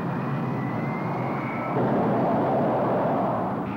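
A Grumman A-6 Intruder jet aboard the carrier USS Independence in 1965 gives a steady, loud broadband roar that swells slightly midway and holds throughout, with no voices.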